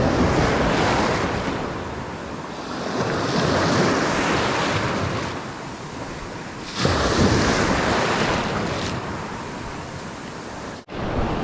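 Strong wind roars steadily at the shore, buffeting the microphone over crashing surf, with a brief sharp dropout near the end.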